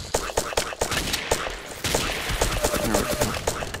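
Rapid bursts of video game gunfire from Ace of Spades crack in quick succession, loud and close, with a brief voice slipping in between shots.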